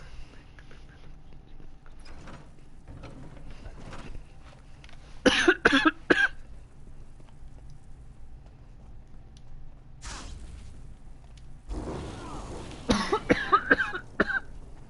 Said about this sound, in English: I'm coughing pretty bad today.